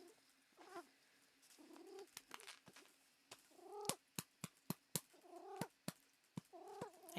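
A house cat meows repeatedly in quiet, rising-and-falling cries, interspersed with sharp, brief clicking taps in an otherwise hushed room.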